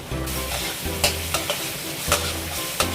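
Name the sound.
blended paste being stir-fried in a pan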